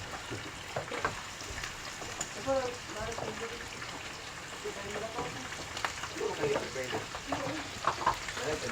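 Chicken frying in a pan, a continuous crackling sizzle with popping bursts running through the whole stretch, while voices talk faintly over it now and then.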